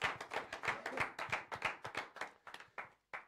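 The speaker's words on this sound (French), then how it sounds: "Allez, on applaudit Ludo, s'il vous plaît, une petite chanson." A small crowd claps for the singer Ludo, a quick run of sharp, fairly close handclaps that thins out and stops near the end, with no voices over it.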